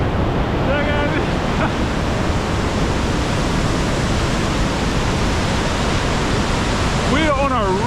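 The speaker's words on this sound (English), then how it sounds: "We're on a rock in the middle of a waterfall, man." Rhine Falls, Europe's largest waterfall, roars steadily and loudly from close range, heard from a rock in the middle of the falls, a dense unbroken rush with brief voices almost buried beneath it.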